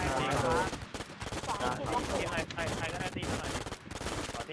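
Rapid automatic gunfire in an online multiplayer video game, dense bursts of shots repeating nearly nonstop close up, mixed with a voice talking over the firing.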